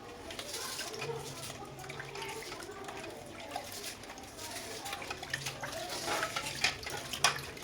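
Tap water runs steadily for rinsing seafood such as crab gills, a continuous close splashing wash with some faint clatter and handling noises over it.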